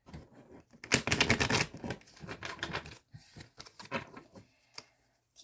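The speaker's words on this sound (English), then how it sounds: "I am shuffling. You're seeing this shuffle," Tarot cards shuffled by hand in a run of quick riffling, snapping bursts, loudest early on and thinning into scattered clicks and taps near the end, close up with no talking.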